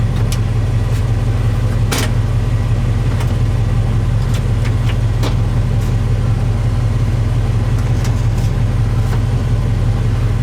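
A 1967 Chevrolet Chevelle SS V8 idles at about 600 RPM, producing a loud, steady low rumble with an even throb close to the microphone and occasional faint clicks and taps over it.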